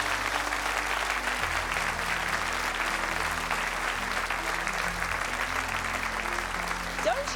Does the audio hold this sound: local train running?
no